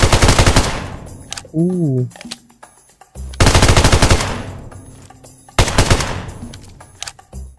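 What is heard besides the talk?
FAMAS rifle gunfire in video game PUBG Mobile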